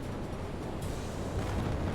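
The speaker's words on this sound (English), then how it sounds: "And massive explosions." A burning enemy ship explodes in the submarine game UBOAT, heard as a dense, close, roaring rumble that swells and holds for two seconds without letting up.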